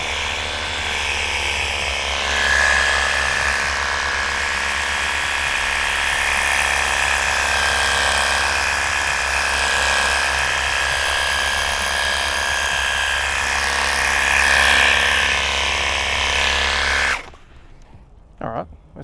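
An OUTORO NOVA 2-in-1 pressure washer sprays a soap coat in a loud, continuous mechanical whine and hiss that runs steadily for about seventeen seconds before cutting off, followed by a few faint knocks.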